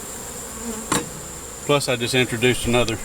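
Honey bees buzz steadily around an open hive holding a full frame of worker and drone brood, a soft continuous drone heard close by under a man's speech.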